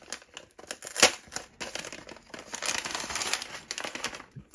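Small paper bag from a Lego Star Wars magazine being opened by hand, close crinkling and rustling with a sharp tear near the start, continuing as a busy, uneven run of crackles at moderate volume, no talking.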